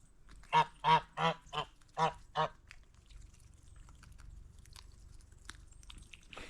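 Geese on a farm pond honk six times in a quick, loud, nasal series, then fall quiet against faint outdoor background noise.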